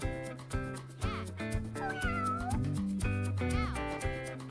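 A cat meows repeatedly in a clear, close sequence of drawn-out, pitch-gliding calls, some rising into a caterwaul-like wail, with no talk over them.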